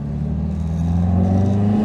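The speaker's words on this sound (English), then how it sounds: "MGs always sounded amazing. Even in standard form, the MGBs always sounded like nothing else." An MGB with a BMC B-series engine gives a deep, rumbling exhaust note, close and steady, swelling slightly in loudness partway through with no voices present.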